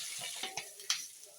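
Onions and a handful of fresh drumstick leaves sauté in a pan over a low flame, giving a steady soft sizzle with a few brief stirring scrapes and clicks, close and fairly quiet.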